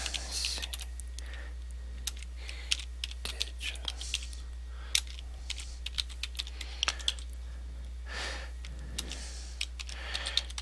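Rapid, irregular clicking of a computer keyboard being typed on, close up, over a steady low hum.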